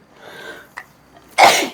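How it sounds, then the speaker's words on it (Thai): A single close, loud sneeze bursts out near the end after a brief quiet intake of breath and a small click, with no talking over it. "จามแล้วปะเนี่ย"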